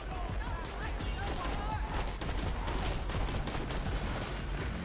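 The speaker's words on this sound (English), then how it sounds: "It fires explosive shots." In Borderlands 2, a gun fires explosive shots in a dense burst of rapid blasts and pops over game sounds, with a voice talking throughout.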